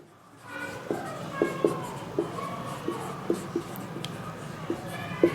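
A pen scratches across paper at close range while a letter is written by hand in a classroom, with light strokes and sharp taps spread through the clip beneath soft background noise.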